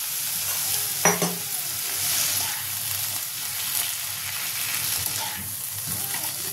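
A small splash of water hits a hot pan of garlic crushed in a mortar for a dried-fish bhorta, setting off a steady close sizzle with stirring scrapes and one sharp clatter early on.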